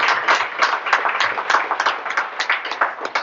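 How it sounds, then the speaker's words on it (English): Audience applause at an evening career-growth talk, a steady burst of many hands clapping for the whole stretch, fairly close and loud with dense overlapping claps. "A little round of applause for these people taking their time out"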